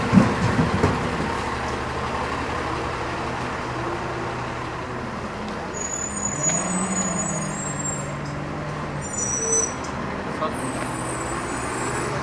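Garbage trucks rumble in morning street traffic in the North End's Hydrostone area, a continuous low engine drone with hiss and faint high squeals throughout.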